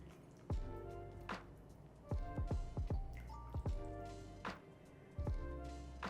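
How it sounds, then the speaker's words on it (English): Egyptian spinach soup is ladled into a bowl, giving soft close-up clinks of the ladle against the pot and bowl with gentle liquid splashes, several short taps spread across the moment. "I'm just gonna ladle some of our soup into a bowl."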